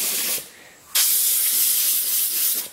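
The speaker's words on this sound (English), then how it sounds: "you want to use compressed air, hold the book like so, so that as you blow air through it" Compressed air blasts through a closed book held tight at the spine to clear powder from mildewed pages: two loud, steady hissing bursts, a short one and then a longer sustained one, with no talking.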